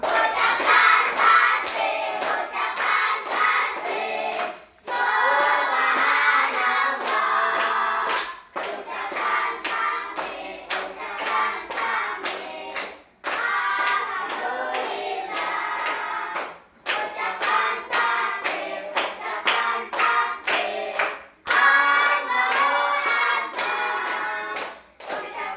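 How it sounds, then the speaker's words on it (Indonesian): An audience claps together in several bursts of sustained applause, each lasting a few seconds and separated by short pauses, loud and close. "Iya, tepuk tangan."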